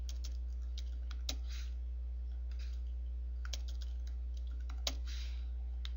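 Computer keyboard tapped while entering phase noise values, a few soft scattered key clicks over a low steady hum, faint and with no talk.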